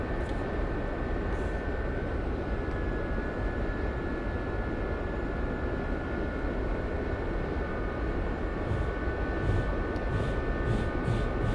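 A small Gazelle helicopter flies in the DCS World flight sim, its turbine and rotors making a steady dense whine and rumble that stays loud and unbroken throughout, with no one speaking.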